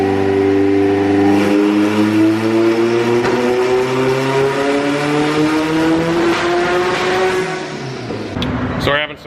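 A turbocharged Honda Integra GSR revs hard on a dyno at wastegate boost, the engine note climbing steadily for about eight seconds before abruptly cutting out near the end.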